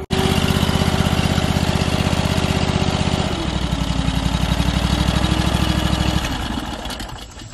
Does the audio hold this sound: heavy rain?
no